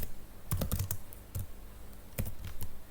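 Close-up typing on a computer keyboard, a few quick clusters of clacking keystrokes separated by short pauses, moderately loud with no talking.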